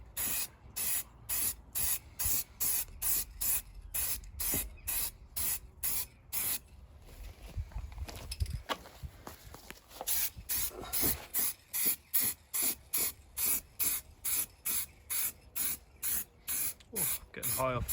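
Short bursts of an aerosol spray can laying a light first coat of red paint onto a Citroen C1 front passenger wing panel, hissing in rapid regular pulses with a quieter pause midway.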